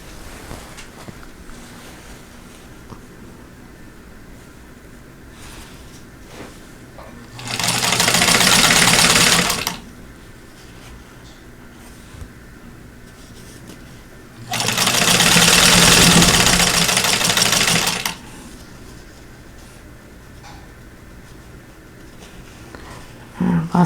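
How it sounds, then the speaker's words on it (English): A sewing machine stitches two quilt block pieces together in two loud bursts of a few seconds each, separated by quiet pauses. "Now I want to sew these two pieces together."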